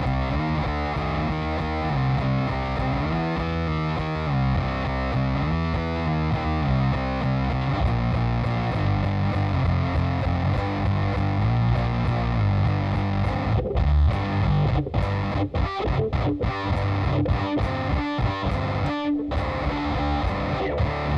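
Electric guitar through an Electro-Harmonix Cock Fight pedal with the bias fully up, loud fuzzy distortion over sustained chords and riffs, with choppier strums and gaps toward the end, no talking.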